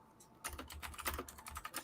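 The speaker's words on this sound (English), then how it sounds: "Who's typing on a 1990 keyboard?" Rapid, uneven clatter of keys on an old 1990-era computer keyboard, close and fairly loud, starting after a brief quiet moment and continuing alone with no voices.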